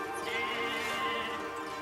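Sheep in Okami bleating, one long wavering bleat close and clear against quiet background.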